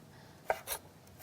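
A knife slices through burdock root on a cutting board, giving three soft, quiet, crisp cuts spaced apart over low background hiss.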